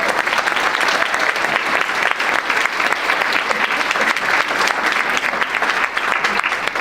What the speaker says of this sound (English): So give Matt a big round of applause.